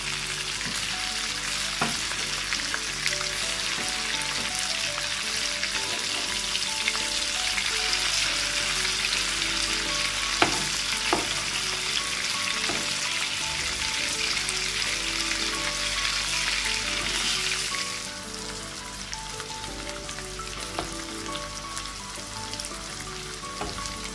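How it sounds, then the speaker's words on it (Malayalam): Prawns frying in a pan, a steady close sizzle with occasional pops and stirring clatters, easing slightly near the end, with no talking. "രണ്ട് സൈഡും ഒരുവിധം മുരിഞ്ഞ് വരുമ്പോൾ ഇതെല്ലാം കൂടിയിട്ട് ഒരുമിച്ച് ഇളക്കിയിട്ട് ഫ്രൈ ചെയ്തെടുക്കാം"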